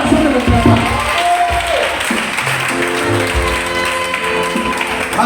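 A church congregation claps and cheers loudly in praise, the clapping mixed with sustained voices and musical tones in a reverberant hall.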